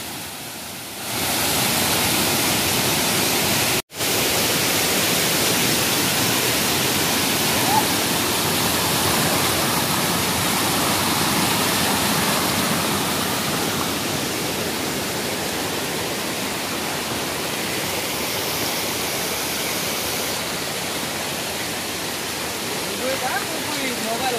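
A Konkan monsoon waterfall roars as a loud, steady broadband rush of falling water, close and unbroken for the whole stretch apart from one brief dropout near the start.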